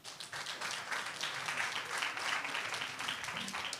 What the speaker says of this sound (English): Ladies, a big round of applause for Eric Wainaina.